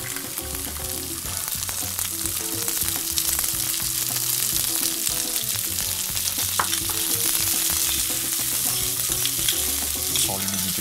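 Peas and shallots sizzling steadily in a hot pan, a dense, loud crackling hiss that stays constant throughout with faint clinks, no talking.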